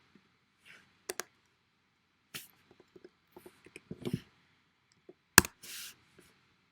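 Sparse, irregular clicks from a computer keyboard as a password is typed, quiet and close, with short gaps between keystrokes and no talking.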